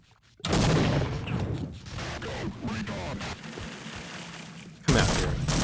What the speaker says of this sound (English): his buddy started shooting at me